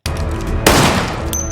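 A gunshot from a film cracks out loud, then rolls into a dense burst like rapid gunfire with a sharp tail, all without talk.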